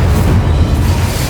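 An Incendio fire spell cast in Hogwarts Legacy, a loud, dense rumbling whoosh of flame that fills the whole moment with a heavy low roar and no voices.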